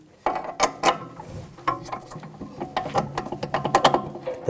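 A steel bolt is worked into the front strut knuckle of a 2007–2013 BMW X5, giving a fast string of metallic clicks and ratcheting scrapes in uneven bursts, close by and loud, with no talking.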